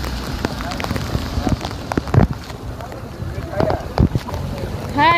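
Heavy rain pours outdoors on a pilgrimage trip to Ashtavinayak temples, a steady broadband hiss with scattered louder splashes and gusts of wind, while people talk over it.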